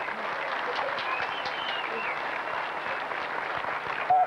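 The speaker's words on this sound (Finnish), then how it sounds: "taputtakaa oikein kunnolla" Dense, sustained applause from an audience at a 1998 anniversary competition in Kokemäki, loud and continuous clapping filling the whole stretch without letting up.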